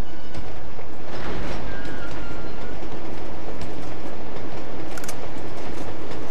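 A train rolls along in Uncharted 2, a loud, continuous rumble and clatter of carriages on rails with a faint metallic squeal, steady and close throughout with no talking.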